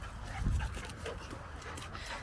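A dog close by makes brief panting, whimpering sounds with a low thump, against quiet background noise in an outdoor setting.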